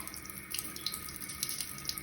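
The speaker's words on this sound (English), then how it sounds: "It's called a waterfall faucet." Steady running water from a waterfall-style faucet over a vanity sink in a freshly renovated bathroom, a continuous soft splashing stream with no voices.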